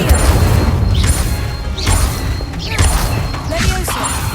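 Repeated fire spells, Incendio in Hogwarts Legacy, burst roughly once a second in loud whooshing blasts over heavy booming combat rumble, with a voice calling out between casts.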